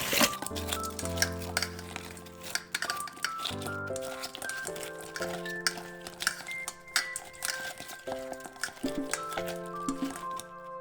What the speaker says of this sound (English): Now we're gonna mix them together.